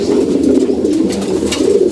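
Pigeons coo loudly and continuously close by, a steady low throaty murmur from several birds with chirps overlapping it now and then, during feeding where squabs are learning to eat.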